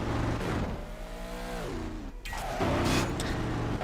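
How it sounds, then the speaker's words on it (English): A green Lamborghini Murcielago in the Midnight Club 3 racing game revs hard, its engine pitch sweeping up then dropping before surging again, loud and continuous with no talk. "showcase of me driving my lean, mean green Lamborghini Murcielago"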